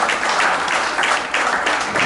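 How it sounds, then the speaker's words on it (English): A church congregation breaks into a brief round of applause during a service, thick continuous clapping from many hands, close and even. "let's give Jesus a round of applause"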